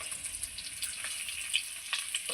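Teasel gourd (kakrol) frying in oil crackles and sizzles steadily for a brief moment, bright and close, with a few sharp spatters and no voices.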